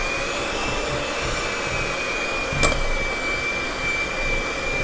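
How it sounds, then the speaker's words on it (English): An electric cake mixer running in donut batter for apple cider donuts, a steady high-pitched motor whine with a brief tick partway through, continuous and close with no talking. "use my cake mixer to mix it"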